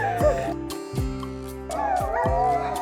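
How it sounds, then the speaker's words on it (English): Several sled dogs bark and yip in loud, overlapping bursts, with whines and whimpers between the barks, close by and chaotic, in snowy Lapland at -25°C. "Dogs were barking and whinnying."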